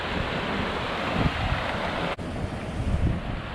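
Water rushing over a spillway among old canal ruins in Easton, Pennsylvania, a loud, steady broadband roar that carries on without pause, with a brief dip partway through.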